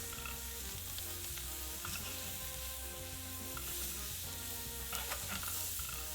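Food is tossed and stir-fried in a pot of molten tin, producing a constant dense sizzle with a low hum and faint stirring movements, no voices.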